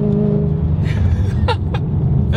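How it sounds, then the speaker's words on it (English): A loud exhaust from a 750HP Ford Mustang GT rumbles deep and close, a steady throaty drone with brief higher bursts, under faint talk. "It's a loud car, it's a loud exhaust."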